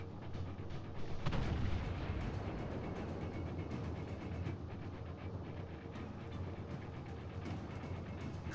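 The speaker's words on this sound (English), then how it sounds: "Concentrate fire on the enemy warship." Warship naval gunfire in the video game World of Warships Legends, with a heavy cannon boom near the start rising over a dense, continuous rumble of mechanical clanking and ship noise.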